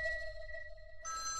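A phone ringtone sounds for an incoming call in a Kannada TV serial scene: a steady electronic tone that shifts to a brighter pattern near the end, with no one speaking over it.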